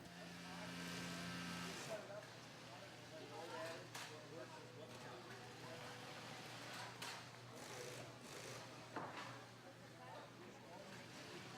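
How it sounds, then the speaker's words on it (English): A special heavy-duty sewing machine stitches a pack frame through the back pad onto a scuba BCD body, a steady mechanical whir under a low factory hum, fairly quiet with occasional clicks, while a narrator talks over it. "Workers secure the pack frame directly to the BCD body through the back pad using a special heavy-duty sewing machine."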